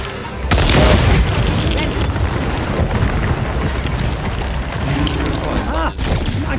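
A grenade detonates in the video game Second Extinction, a loud booming blast with dense rumbling gunfire and chaotic combat noise continuing throughout.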